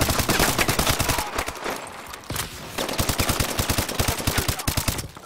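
Rapid automatic gunfire from Call of Duty Advanced Warfare, loud dense bursts of shots with a short gap, no talking.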